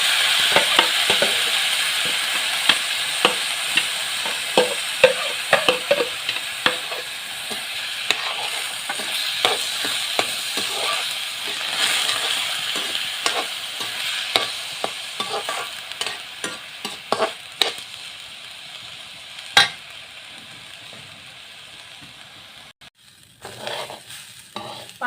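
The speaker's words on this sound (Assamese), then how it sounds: "ঘিউখিনি গৰম হ'ল আৰু এতিয়া চাউল ঢালি দিওঁ।" Rice frying in hot ghee for motor khichdi while a spoon stirs it, a continuous crackling sizzle punctuated by frequent scraping clicks of the utensil against the pan that thin out toward the end.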